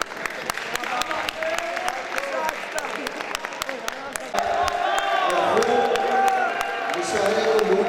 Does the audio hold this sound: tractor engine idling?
no